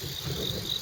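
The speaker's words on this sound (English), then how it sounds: "Crickets." Crickets chirp faintly in a quiet hillside neighborhood in Japan, a thin high trill pulsing a couple of times over soft outdoor background noise.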